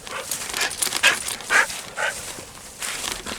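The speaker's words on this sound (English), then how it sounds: "You good doggy. You good doggy." A dog whimpers and pants outdoors in Brown County State Park, with several short breathy bursts at close range and no talking.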